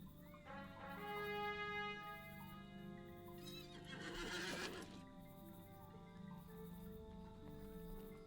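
A horse in a Middle-earth video game, ridden by the Rohirrim of Rohan, whinnies loudly and clops its hooves over a steady musical backdrop, with a brighter rush of sound midway through.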